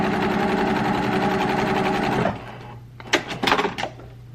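Sewing machine running fast through fabric, a loud steady whirring for about two seconds before it stops, followed by a few short clicks and knocks from handling.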